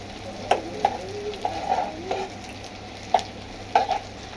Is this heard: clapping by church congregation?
no